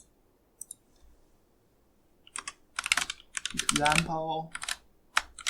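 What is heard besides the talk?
typing a file name on a computer keyboard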